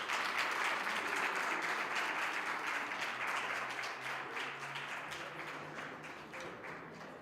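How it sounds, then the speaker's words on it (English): A crowd at a student support services conference claps steadily in sustained applause for the president, dense and even at first, then gradually thinning and fading as it goes on. "Ladies and gentlemen, let's give the President a round of applause."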